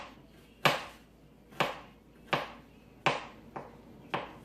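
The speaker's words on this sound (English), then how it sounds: "So you're just going to slice it thin." Knife slicing fresh ginger thin on a cutting board for kimchi: six sharp, evenly spaced chops, close and clear, each with a brief crisp attack fading quickly into a quiet room.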